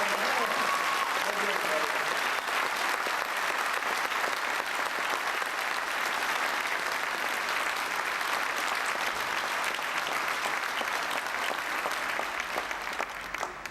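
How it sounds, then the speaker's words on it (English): A school awards ceremony audience applauds steadily and loudly, a dense wash of clapping that holds for the whole stretch with only a slight fade at the end. "How about some special round of applause?"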